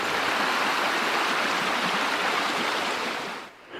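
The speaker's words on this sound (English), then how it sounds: "Pilchuck Creek continues on down" Brownish water of Pilchuck Creek in Washington State rushes steadily and loudly close by, a continuous broad roar that drops away abruptly just before the end.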